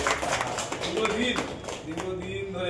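An audience at an international youth theatre festival applauds with a steady patter of many hands clapping at moderate volume. The clapping runs throughout, with a little background voice.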